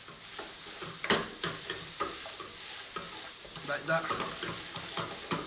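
Noodles stir-fried in a pan with dark soy sauce, a steady close sizzle with scraping stirs and clanks of a utensil against the pan, and a brief word spoken over it.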